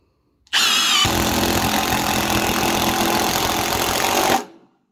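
A Milwaukee M18 FID2 impact driver hammers at speed setting 2, a loud, close, steady rattling burst of about four seconds that starts abruptly and cuts off with a short tail.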